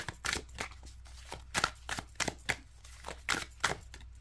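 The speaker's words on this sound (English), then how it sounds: "So let me just shuffle my card for today." A tarot card deck being shuffled by hand, giving a series of short papery riffles and snaps in uneven bursts, close and fairly quiet, with no voices.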